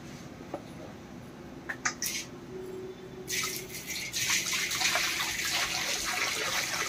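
Water poured in a paper mill, a splashing gush starting partway through and continuing loudly to the end after quieter handling noises.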